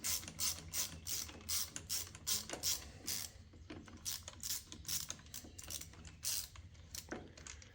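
A socket ratchet loosens a starter bolt on a Briggs and Stratton engine, giving rapid bursts of close, crisp pawl clicking in short repeated strokes with brief pauses between them, no talking.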